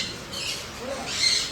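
A parrot gives short, shrill squawks nearby, one early and a louder one near the end, over a quiet room background with no talking.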